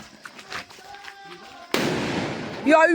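A firecracker goes off with a sudden big blast after a stretch of quiet outdoor talk, its loud rumble lingering as a voice rises near the end.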